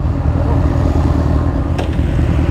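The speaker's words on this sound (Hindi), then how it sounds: "ये आ गई निंजा 1000 हमारे पास।" A Kawasaki Ninja 1000 SX motorcycle engine runs close by with a steady, dense rumble and no clear revving. A brief clatter cuts through near the end.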